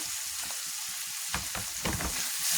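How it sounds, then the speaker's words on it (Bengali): Vegetables frying in a pan with turmeric and coriander powder, a steady close sizzle with a few scraping stirs partway through, no talking. "আমি সবজিটা ভালোভাবে মশলা দিয়ে ভেজে নিতেছি"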